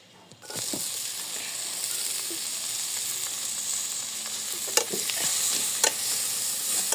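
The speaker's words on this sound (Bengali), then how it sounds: "মাছটা এখন ভেজে নেই" Small fish frying in hot oil in a home kitchen for a Bengali fish dish, a loud, close, steady sizzle with occasional crackles and pops, with no talk.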